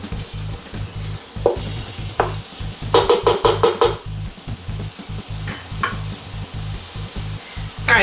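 TVP sloppy joe mixture in a pan on the stove at a simmer, giving a soft steady sizzle with a spoon scraping and clinking against the pan in bursts.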